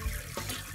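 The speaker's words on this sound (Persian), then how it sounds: "بذار سیفون رو بکشم به عشق سلطان ابرو." A video-game toilet flush gives a brief, close rush of water, a short gushing splash that fades almost at once.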